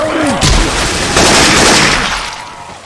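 Dense bursts of gunfire from Left 4 Dead 2 using Syphon Filter weapon sound effects, loud and crackling with overlapping booming shots that fill the whole moment, then trail off slightly at the end.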